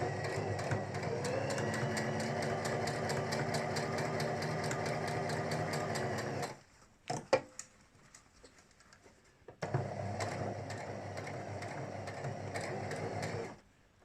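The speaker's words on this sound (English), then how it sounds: "And then I'm going to turn the machine on and start to sew." A sewing machine stitches a fabric book cover in fast, even runs of rapid needle pattering. The first run lasts about six seconds, followed by a brief quiet gap with a few clicks, then a second steady burst.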